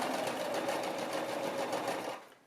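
A sewing machine stitches baby romper fabric in one continuous fast run, its close steady whir lasting about two seconds before slowing and stopping.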